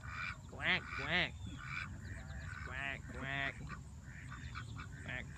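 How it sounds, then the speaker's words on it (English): Ducks quack in a series of loud, harsh calls, some coming in quick repeated bursts, close by outdoors with faint background noise. "What you doing, duck? You gonna go in?"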